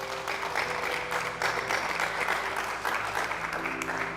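A church congregation applauds steadily during a sermon, dense broadband clapping filling the room for the full stretch, with sustained tones from instruments or organ held underneath.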